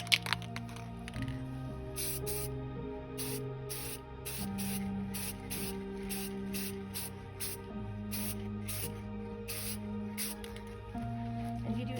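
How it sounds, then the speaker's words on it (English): Short hissing bursts from a spray paint can come in quick intermittent puffs, close by, lightly spraying book edges, over a low background hum. "So it is just going to be the lightest spray of spray paint here."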